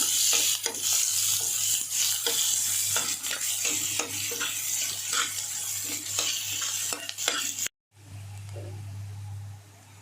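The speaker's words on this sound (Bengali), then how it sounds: "এখন পেঁয়াজটা ভালোই ভাজা হয়ে গেছে" Onions frying in oil in a pan, with a constant sizzle and repeated scraping stir strokes close by. The sound cuts out briefly near the end, then a quieter hiss carries on.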